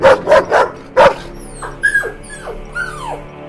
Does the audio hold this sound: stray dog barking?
yes